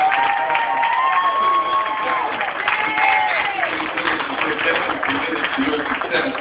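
Crowd at a leadership event applauds and cheers for the organizers, a steady dense wash of clapping and voices with shouted whoops, loud and continuous throughout.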